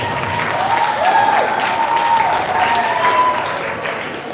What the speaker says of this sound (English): Let's give him a round of applause in his absence.